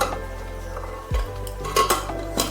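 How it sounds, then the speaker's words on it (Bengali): Lid clanking and locking onto a pressure cooker of chickpeas, a dull metallic thud followed by several light clicks and clatters, near and fairly loud. "প্রেসার কুকারে ঢাকা বন্ধ করে বসিয়ে দিলাম সিটি পড়ার জন্য"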